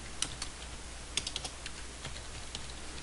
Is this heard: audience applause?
no